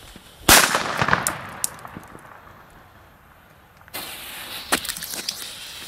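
Weco Bombette firecrackers go off outdoors, one sharp loud bang followed by a crackling series of smaller pops, then a second burst of scattered cracks after a short lull.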